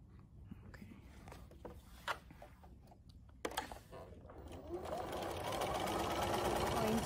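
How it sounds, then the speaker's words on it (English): A sewing machine stitching darts on a fabric face mask, starting with a few clicks and handling noises and then running in a steady, close whir for the final couple of seconds. "So I'm going to sew the darts on this side."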